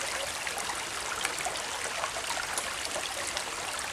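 A small stream or narrow creek in the Semedo area runs with a steady, close, bright trickling and splashing of water, continuous and even throughout, with no voices.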